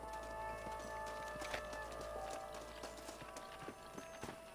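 Horse hooves clip-clop in Red Dead Redemption 2, a steady run of soft rhythmic strikes heard over a constant game ambience with a faint background hum.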